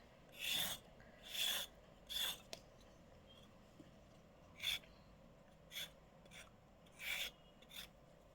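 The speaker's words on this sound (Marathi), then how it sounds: "हे गाजराचे सालटे असे काढून घ्यायचे सर्व गाजरचे" Carrots are scraped with a peeler to remove the skin, making eight short, soft rasping strokes at an irregular pace, close up and quiet against a faint background.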